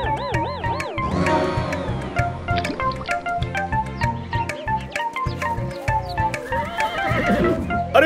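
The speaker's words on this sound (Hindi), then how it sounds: "तो तेरा घोड़ा तू दौड़ा" A cartoon horse gives a long, wavering whinny, then gallops with brisk rhythmic hoofbeats under bright music, ending with another neigh.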